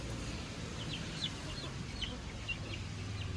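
Several chickens on a farm cluck in short, scattered bursts against a steady low background hum, fairly distant and with no talk.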